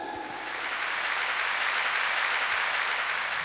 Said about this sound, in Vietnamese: Xin quý vị hãy nổ một tràng pháo tay thật lớn để chúc mừng.